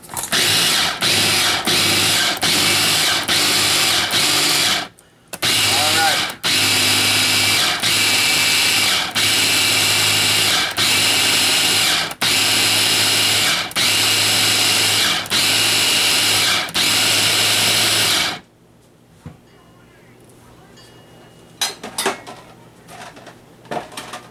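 Boiled chickpeas being ground for hummus in an electric appliance, a loud steady motor whir running in long bursts with brief pauses, then cutting off to quiet.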